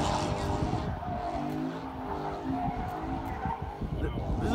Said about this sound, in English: This is the first time me hearing my exhaust outside of my car.